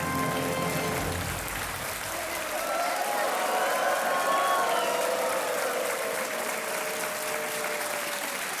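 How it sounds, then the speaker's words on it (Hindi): A studio audience on a Hindi-language game show claps in sustained, dense applause for several seconds, steady and moderately loud, with a host's voice faint underneath at the start. "तालियां बजती रहें देवी और सज्जनों।"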